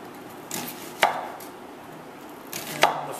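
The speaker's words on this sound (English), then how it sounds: "the way to cut an onion is so you've got half of it like this, and you pretty much cut slices" A knife cuts slices of onion on a board in a few crisp, close chopping strokes, spaced roughly half a second to a second apart, with quiet between them and no talking.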